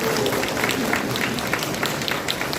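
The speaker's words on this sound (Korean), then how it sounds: "격려의 박수 한번 보내주셨으면 좋겠습니다" Applause from an audience at a Korean party conference in the Honam region, steady dense clapping filling the room for a few seconds, fairly loud and close.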